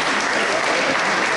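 Crowd applause for the women's winners at an extreme mountain half-marathon awards ceremony, a steady dense clapping that fills the whole moment with no break.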